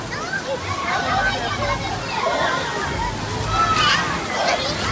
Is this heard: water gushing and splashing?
yes